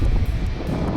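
Strong wind gusting outdoors beside a rooftop air-conditioning unit during a no-cooling service call, a continuous low roar buffeting the microphone with no voices.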